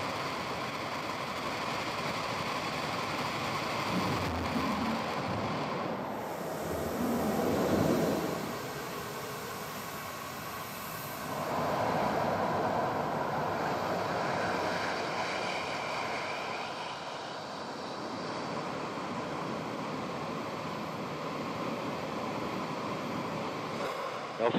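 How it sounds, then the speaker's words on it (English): ULA Vulcan rocket's BE-4 engines igniting and throttling up, a distant broadband roar that swells and ebbs over about 25 seconds, rushing and wind-like with no distinct beats. "We just saw ULA's Vulcan engines throttle up for the first time."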